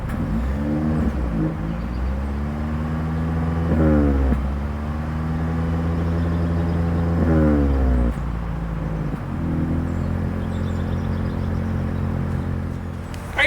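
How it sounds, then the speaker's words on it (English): A 2026 Toyota Prius Plug-In Hybrid's engine and exhaust hum from close by, rising in a few short revs with pitch sweeps up and down before settling into a steady low drone. "As always, here is that exhaust clip."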